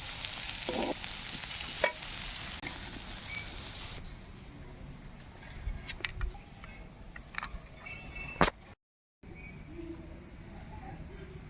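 Bitter gourd and pumpkin frying in oil, a steady sizzle at first giving way to quieter crackling, stirring clatter and a few sharp utensil knocks, with a brief dropout near the end.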